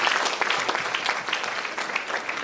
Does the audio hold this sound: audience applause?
yes